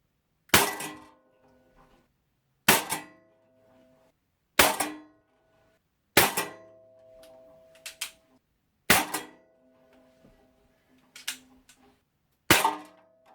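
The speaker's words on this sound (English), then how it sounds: "I'm probably 10 shots into a CO2, and this thing's still giving me a little bit of kick when I shoot it" A Diana Chaser CO2 air pistol fires about seven sharp, loud pops at a target roughly 20 feet away. Each pop is spaced a second or two apart and is followed by brief metallic pings and clatter.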